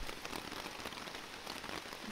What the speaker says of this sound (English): it started pouring rain, so good timing. But I am inside my hammock now, and the tarp seems to be holding up pretty good